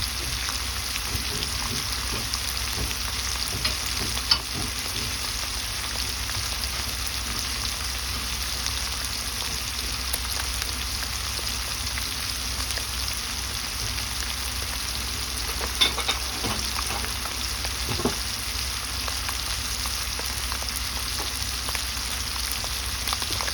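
Shrimp sizzling and frying in a pan while being stirred, a steady close hiss with occasional light scrapes and clinks of the utensil, cooked for a green bean sauté.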